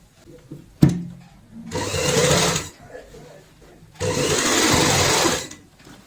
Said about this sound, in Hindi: सिलाई के ऊपर सिलाई लगाते हैं